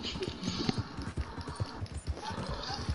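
Horse hooves clip-clop in Red Dead Online, a quick uneven run of hoof beats mixed with game ambience and faint background noise, moderately close.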